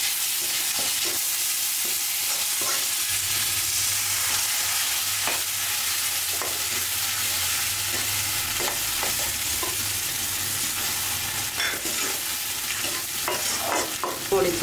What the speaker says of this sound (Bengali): কড়াই মাছ আর বালা মাছ একসঙ্গে ভুনা করব